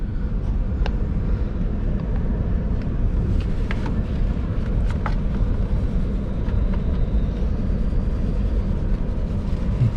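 A passing train heard from on board a sleeper train to Scotland: a loud, steady rumble and roar fills the whole stretch, with faint clicks and rattles on top.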